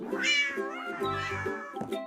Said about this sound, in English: A cat's baby is a kitten. Meow, adorable.